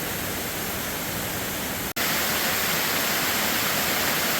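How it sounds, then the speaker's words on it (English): Waterfall tumbling beside a rocky trail down Mount Moosilauke, a dense continuous roar of rushing water, close and loud, with a momentary dropout near the middle and no voices. "We're still following this waterfall down the hill."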